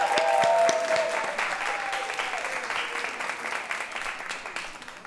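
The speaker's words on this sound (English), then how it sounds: "Y'all keep clapping till the artist gets up to the stage." At a spoken-word poetry event, a crowd claps for a poet walking to the stage; the applause starts loud and fades gradually, with a brief tonal sound at the very beginning.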